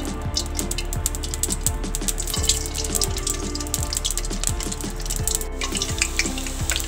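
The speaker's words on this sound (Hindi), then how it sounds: "जब तेल अच्छे से गर्म हो जाएगा तो हम इसमें लहसुन और हरी मिर्च और ज़ीरा शामिल कर देंगे" Garlic, green chili and cumin hit hot oil in a pan, giving a steady close sizzle and crackle with scattered pops throughout.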